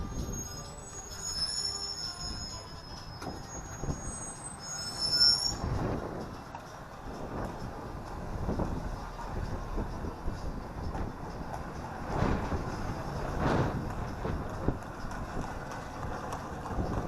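A road train in Valletta, Malta, rolls along with high, thin wheel squeals early on, then low rumbling movement and a few louder scraping swells, moderately close.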